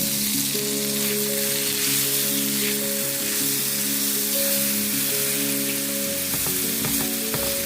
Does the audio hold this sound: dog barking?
no